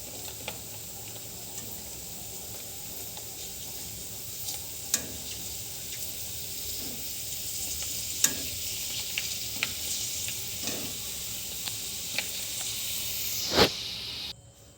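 Panipuri puris frying one after another in hot oil give a steady, close bubbling sizzle, with scattered sharp crackles and a brief louder pop near the end.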